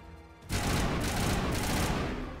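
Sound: gunfire in Mass Effect video game

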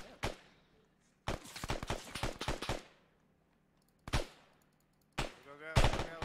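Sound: gunfire in Arma 3 video game

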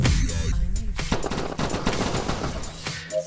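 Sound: weapon gunfire in VR video game Dimension Hunter

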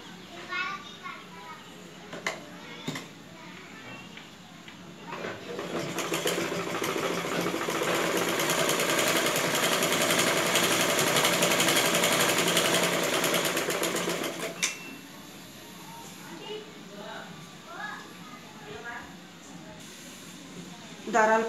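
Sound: sewing machine stitching blouse back part

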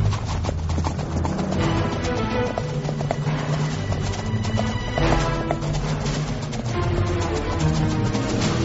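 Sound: horses galloping, conspirators riding in pursuit

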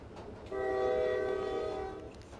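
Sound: steam train whistle in video game

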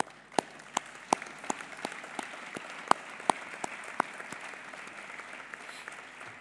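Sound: audience applause at parliamentary meeting

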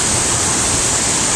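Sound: water rippling in a stream

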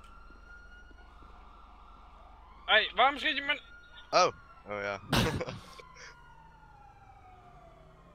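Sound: police sirens in GTA V Online video game

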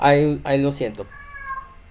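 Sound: cat meowing

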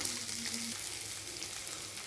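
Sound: onions and green chillies frying in tempering

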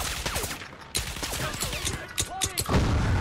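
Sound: gunfire in Crysis Remastered video game

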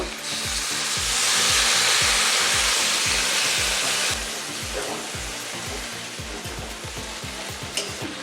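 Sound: desi chicken being sautéed with spices

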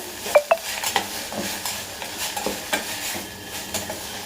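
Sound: sweet pumpkin frying in ghee

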